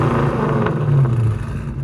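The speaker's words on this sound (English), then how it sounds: "Guys, we got a 2010 Dodge Challenger RT Hemi. We just did Dynamax mids, rear delete, stock tips." A 2010 Dodge Challenger R/T with a Hemi V8, Dynamax mid mufflers, rear muffler delete and stock tips, heard as a loud close deep exhaust rumble that swells briefly as the engine revs before settling back.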